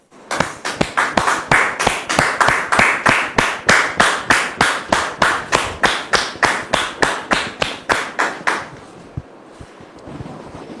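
A studio audience claps in unison at a steady rhythm, about thirty loud sharp beats close to the microphone, then breaks into brief scattered applause that fades toward the end.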